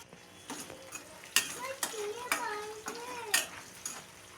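Onions and green chilies fry in a pan while a utensil stirs them, giving a soft sizzle under repeated scraping and clinking strokes against the pan, close and moderately quiet.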